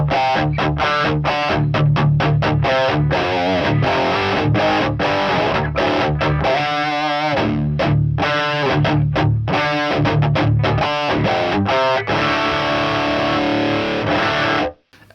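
Heavily distorted electric guitar through a Revalver 5 amp simulator, playing loud, tightly palm-muted chugging riffs with rhythmic stops, ringing out at the end.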